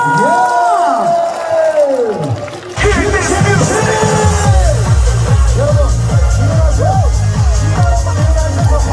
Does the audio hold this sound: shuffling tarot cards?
no